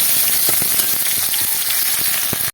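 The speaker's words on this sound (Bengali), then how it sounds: "পেঁয়াজটাকে ভালো করে ভাজা ভাজা করে নেব" Chopped onions fry in hot mustard oil with cumin and bay leaf, giving off a close, steady sizzling hiss with faint scattered crackles.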